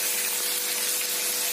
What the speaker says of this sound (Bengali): আর মাছের তেলটা ভাজছি।